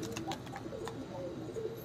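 Saharanpuri topidar pigeons cooing nearby, a short run of soft, repeated low coos over light background noise, with no talking.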